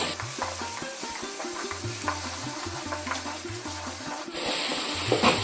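Tomatoes and salt are sautéed in a pan for a lady's finger masala, with close sizzling and repeated scraping strokes of a spatula, then a brief rush of water near the end.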